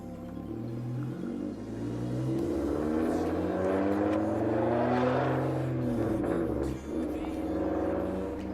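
Tuned Volkswagen Golf MK6 accelerating under throttle, a loud steady engine rumble with rising and shifting pitch, heard from inside the car.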